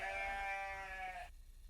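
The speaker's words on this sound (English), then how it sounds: "goat।" A goat bleats once, a single wavering, harmonic cry that trails off and cuts to quiet, fairly close and alone with no talk.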